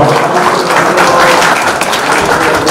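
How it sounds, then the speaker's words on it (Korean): An audience at a 2023 New Year's greeting gathering in Hamyang applauds loudly, a dense, sustained wash of many hands clapping close by for a few seconds without letting up. "큰 박수 부탁드립니다"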